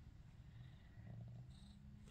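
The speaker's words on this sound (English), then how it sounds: "I hear you purring." A three-week-old oriental kitten purrs faintly and steadily in a quiet room, a soft low rumble with no voices over it.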